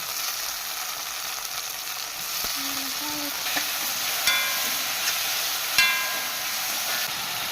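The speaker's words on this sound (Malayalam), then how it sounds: "ഇതിനകത്തേക്ക് നമുക്ക് അരിഞ്ഞു വെച്ചിരിക്കുന്ന തക്കാളി ഇട്ട് കൊടുക്കാം" Chopped tomato with onion sizzles steadily in coconut oil, a close, even hiss lasting the whole stretch, broken by a few brief knocks and scrapes of stirring.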